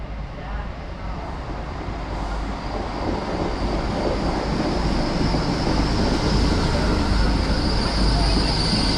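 Great Western Railway passenger train bound for London Paddington heard from inside a carriage: a steady, loud rumble of wheels on track with faint rhythmic clatter and high squeal running continuously throughout.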